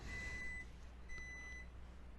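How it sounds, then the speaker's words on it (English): A microwave beeps faintly twice, each a steady high electronic tone, over a low background rumble. "Sorry, the microwave is beeping."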